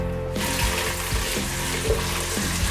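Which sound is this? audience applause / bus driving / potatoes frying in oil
potatoes frying in oil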